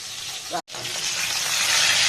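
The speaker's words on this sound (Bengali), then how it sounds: "মাছটা ভেজে নিই, মাছগুলো ভেজে তুলে রাখি" Tilapia fish frying in hot oil, a steady loud sizzle that swells slightly and continues, with a brief gap near the start.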